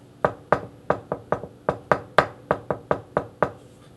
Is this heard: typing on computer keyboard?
no